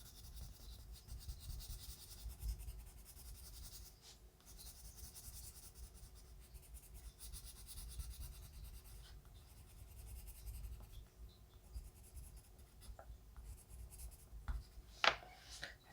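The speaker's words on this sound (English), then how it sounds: "Let's go in with our cloud blue and start burnishing everything. As always, we're using little circles." Colored pencil burnishing in small circles on paper produces a faint, continuous soft rubbing and scratching, close and quiet with no talk.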